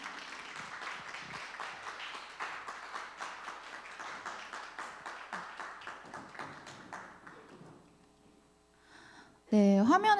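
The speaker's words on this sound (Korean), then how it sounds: "여러분 박수로 좀 환영해 주시면 감사하겠습니다" An audience at a school event claps in welcome as students come forward, a steady patter of applause that fades out before a loud burst of voice-like sound at the end.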